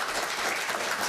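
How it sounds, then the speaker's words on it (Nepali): Audience applause at a live-streamed Theravada Buddhist community event, a steady wash of many hands clapping together without a break, fairly close and even in loudness throughout. "उहाँलाई एकचोटि सबैले ताली बजाएर"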